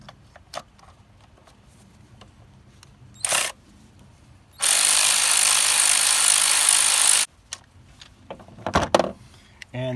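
A 10mm socket on an extension, driving the ignition coil bolts out of a 2010 Jeep Liberty 3.7 engine: a short whir, then a loud, close, continuous spin lasting a few seconds, with quiet handling noises around it.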